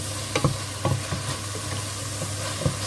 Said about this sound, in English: You have to stir in between